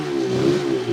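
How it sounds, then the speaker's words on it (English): A Suzuki RG500 two-stroke motorcycle engine holds a loud, close, droning note for a second, its tone steady and somewhat dull, with no voices. "you can clearly hear the engine sound go dull"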